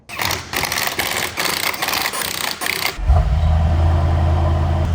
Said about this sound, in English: Let's whack the wheels on, take it for a little spin, make sure everything works as it should.